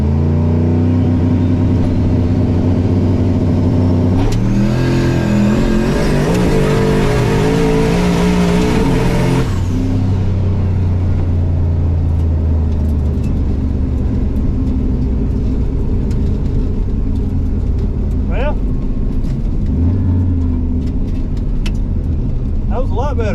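A no-prep drag race car screams at full throttle, rising in pitch and hitting the rev limiter with a sustained choppy wail before dropping off, followed by loud engine rumble, crowd noise and excited shouting throughout.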